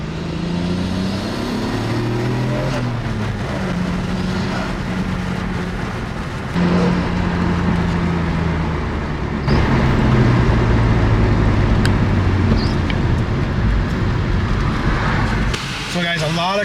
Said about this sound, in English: With the stock exhaust, actually it sounds pretty healthy. You can see it going to boost a little bit here.